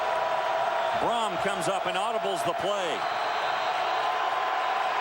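A crowd roaring throughout a 2007 college football game between Louisville and Cincinnati in a Cincinnati stadium, a loud, steady wash of noise with a commentator speaking over it.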